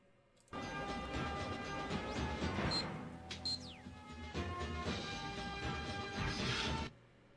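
A large glass door grinds and shatters open in the Aztec level of GoldenEye 007, a loud sustained crashing, scraping rumble lasting several seconds with a brief dip midway before it stops abruptly.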